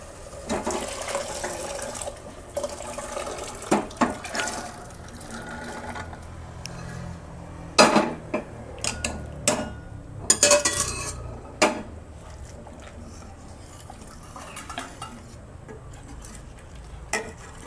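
Boiled rajma kidney beans go into a pot of cooked Punjabi-style masala gravy with sloshing pours and a string of sharp metal clanks from spoon and pan, some loud, with quieter stretches between.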